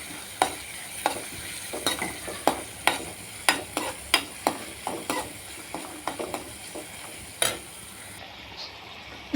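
Shallots, garlic, ginger and green chilli sauté in coconut oil, with a steady soft sizzle beneath regular scraping strokes of a spoon against the pan, each stir a short clack at roughly half-second intervals.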